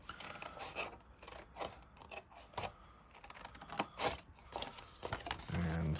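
Scissors cutting card down to a score line while making a large Christmas cracker, a rapid series of close, crisp snips and rasping cuts in an uneven rhythm, with no talking.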